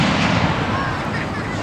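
Rumbling booms and crackle from a 4th of July fireworks display in Glens Falls, New York, a dense continuous roll of distant blasts with faint whistling streaks, loud throughout.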